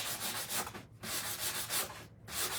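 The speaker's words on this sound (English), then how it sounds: "I want to sand the edges just a little bit." Sandpaper rubbed along the painted edge of a wooden tray in quick back-and-forth strokes, close and steady, pausing briefly twice between passes.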